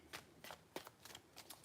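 Tarot cards being shuffled by hand, a few quick riffling bursts close up with brief pauses between them, no voices.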